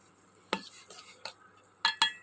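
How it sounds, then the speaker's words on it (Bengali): A metal spoon stirs boiling tea in a pot, giving a few scattered scrapes and clinks, the last two brighter, against a quiet background. "ফুটে গেল, একটু নেড়ে দিই।"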